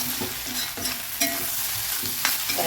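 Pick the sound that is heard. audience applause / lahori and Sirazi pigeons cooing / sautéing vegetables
sautéing vegetables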